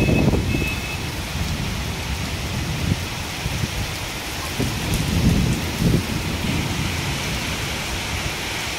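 Heavy rain pours down in a loud, constant roar, with low rumbles of thunder swelling now and then beneath it.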